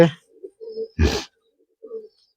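Murshidabadi pigeons give soft, short low coos, broken by one loud burst of fluttering or rustling mid-way, close by and with no talking.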